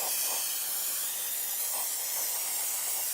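Steady aerosol brake cleaner hissing onto brake calipers, a continuous close bright spray with faint pulsing, nothing else heard.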